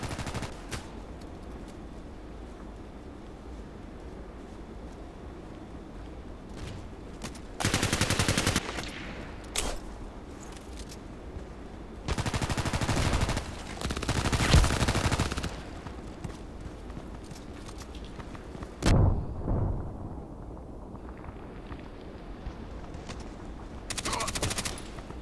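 Gunfire in the video game Contract Wars comes in several loud bursts of rapid shots separated by quieter stretches of ambient game sound across about twenty-five seconds.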